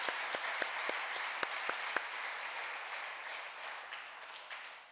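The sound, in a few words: church congregation applause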